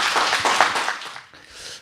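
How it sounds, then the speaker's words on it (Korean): Brief burst of audience clapping at a Korean church's Wednesday worship service welcoming a guest, a fairly close crowd applauding loudly for just over a second, then dying away quickly. "주님께 감사하는 마음으로 우리 박수로 받겠습니다"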